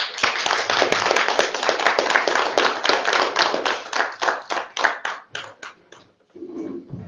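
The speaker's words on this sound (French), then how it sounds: "On peut les applaudir." Municipal council members in a meeting hall clap for newly elected deputies, a lively burst of many hands that thins into a few scattered claps before fading, followed by a brief low murmur.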